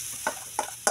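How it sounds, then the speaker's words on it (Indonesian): Spice paste for chicken meat hits hot oil in a pan, giving a faint steady sizzle with three short stirring scrapes spaced evenly through the brief moment. "Ini minyak udah panas, kita tuangkan"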